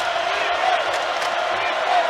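Basketball crowd at Gallagher-Iba Arena in a college game, a steady broad roar of cheering voices with a few whoops rising near the end, sustained and fairly loud throughout.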